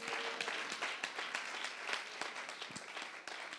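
A church congregation claps and cheers together during a worship service, a steady patter of many hands with rhythmic accents, moderately distant and continuous throughout.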